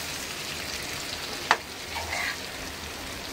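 Potatoes and onions fry in oil with a soft, steady sizzle, broken by one brief clink of a utensil.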